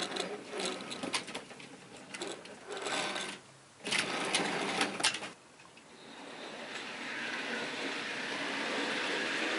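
A model Midland 1F locomotive runs slowly, giving a close mechanical whirring and buzzing that starts and stops in uneven bursts before settling into a steady hum.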